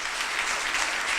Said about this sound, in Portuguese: Vamos aplaudir nosso Deus.